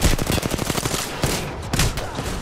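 Video game gunfire: dense, rapid automatic shots rattle continuously at close range for the whole short stretch, with no talking.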